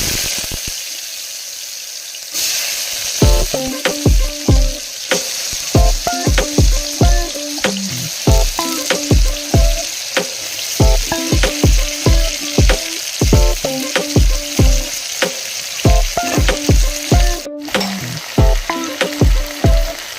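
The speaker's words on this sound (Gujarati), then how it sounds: "હવે આપણે બટેટા નાખી દઈશું" Steady frying sizzle of potatoes in hot oil with a rapid series of scraping, clattering stirs and utensil knocks throughout; no talking.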